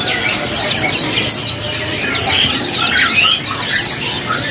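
Fleci birds at an Indonesian bird market chirp and squawk in a dense, loud, overlapping chorus of sharp, high calls close by. No one speaks over them.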